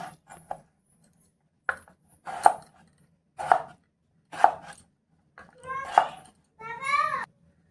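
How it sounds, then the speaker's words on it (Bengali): A tomato is cut with a knife on a board, giving about seven separate sharp chopping thuds spaced through the clip, each close and distinct against near silence. "এই যে এখানে একটা টমেটো নিয়েছি এটা কেটে নেব"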